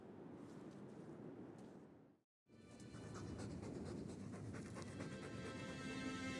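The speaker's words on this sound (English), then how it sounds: "All that noisy dog breath, day in, day out, make him stop." Dog panting in Dragon Age 2, a steady, close breathy rhythm with a brief silent break partway through.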